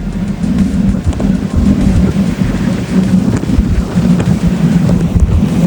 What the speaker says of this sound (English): Tornado starting right in front of us. You can hear it.